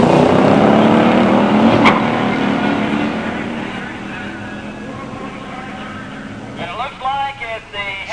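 A drag-race launch between a 70 Charger and a 69 Roadrunner Hemi automatic: a loud engine roar at the start fades as the cars pull away, then a commentator talks over lingering engine noise.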